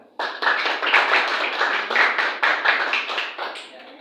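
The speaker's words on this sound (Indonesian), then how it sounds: "Ya, berikan tepuk tangan." Students in a classroom clap together for a group that has just presented, a dense, lively burst of hand claps lasting several seconds before thinning out, close and clear with no speech.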